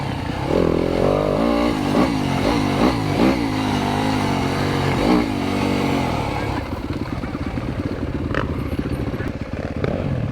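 A Yamaha YZ250FX dirt bike cruises in second gear along a single-track trail, its engine note rising and falling steadily and close by for the whole stretch, with a few sharper throttle blips along the way.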